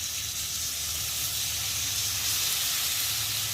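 Spice paste of garlic, onion, ginger and cumin with chilli powder and green chillies sizzles in hot oil for a rohu fish curry, a constant close hiss with no talking.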